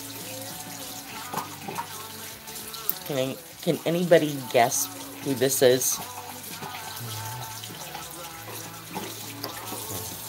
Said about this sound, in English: Let me turn off the water.